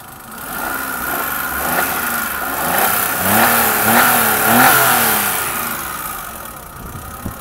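A 2007 Daewoo Matiz engine is revved several times close by, its exhaust giving rhythmic throaty pulses that swell and ease back toward idle, with no voices.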